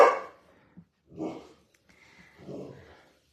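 A pet dog barks indoors in three separate sharp barks spaced about a second apart, close and fairly loud, the first strongest and the later ones softer, with silence between.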